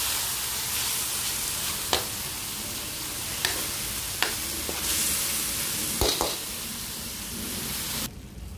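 Meat for menudo frying in a pan, a steady loud sizzle with occasional scrapes and clinks of a stirring utensil, no talking.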